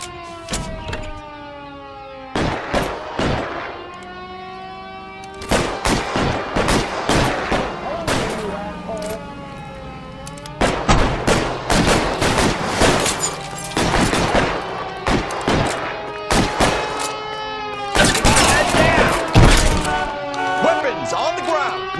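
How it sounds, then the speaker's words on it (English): Covering gunfire in the video game L.A. Noire, with loud, rapid bursts of shots and ringing ricochet-like tones in dense clusters, continuing throughout alongside game voices and sirens. "Lay down some covering fire."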